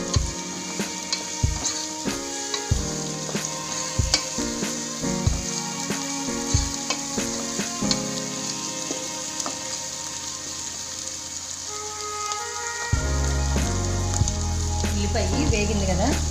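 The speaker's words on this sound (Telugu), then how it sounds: "దీనిలో సన్నగా తరిగి పెట్టుకున్న 4 పచ్చిమిర్చి ఇవి కూడా వేసి కొంచెం వేగనిస్తాము." Finely chopped green chillies fry in a pan for a Telugu-style greens and egg curry, a steady close sizzle with occasional stirring clacks that grows louder and denser near the end.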